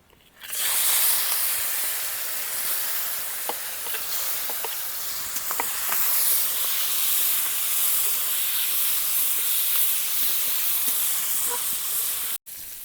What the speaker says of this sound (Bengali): তেল গরম হয়ে গেছে, মাখিয়ে রাখা চিংড়ি মাছগুলো দিয়ে দিলাম। হালকাভাবে ভেজে নেব।